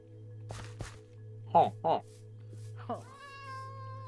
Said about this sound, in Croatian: No, evo ga mačak. Da. To je mačak.